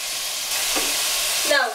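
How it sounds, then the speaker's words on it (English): Lamb meat browns in a hot pan with a loud, steady sizzle and frying hiss, stirred now and then, with no talk. "just brown the meat until it's cooked on all sides"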